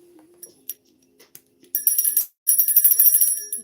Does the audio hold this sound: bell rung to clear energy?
yes